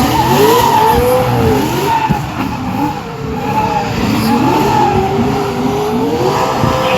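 Hot Wheels drift car spinning a donut at the MotorEx 2026 drift show, tires squealing in long wavering howls over a roaring, revving engine, loud and close, continuous for several seconds.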